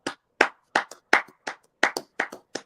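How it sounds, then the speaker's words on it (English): A single person clapping hands slowly and deliberately, roughly eight or nine sharp, close claps spaced unevenly with brief silences between them, no talk over them. "let's give him a hand clap"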